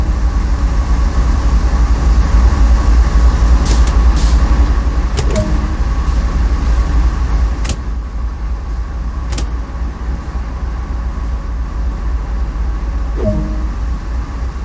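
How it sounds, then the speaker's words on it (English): A GP38-2 diesel locomotive in Train Sim World 2 hums steadily from inside the cab, a loud continuous low drone with occasional clicks and knocks and no talk. "Climb aboard and take a seat in the cab with the engineers for a short ride."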